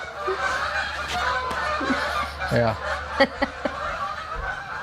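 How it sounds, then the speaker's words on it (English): Ducks fly over a house in Illinois, heard from a garage as a series of loud, close honking calls in uneven bursts, with people talking and chuckling between them. "listen to damn ducks"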